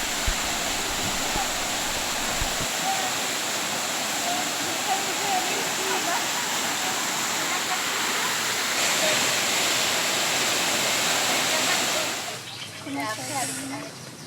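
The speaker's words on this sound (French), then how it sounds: "nous nous sommes arrêtés aux cascades" A mountain waterfall in Togo pours with a loud, steady broadband roar that holds unbroken for about twelve seconds, then drops to a softer rush.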